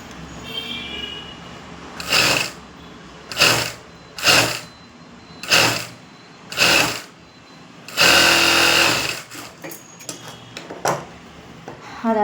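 Sewing machine stitching a blouse in short repeated bursts of fast whirring, about eight runs separated by pauses, one longer burst in the middle, close and clear.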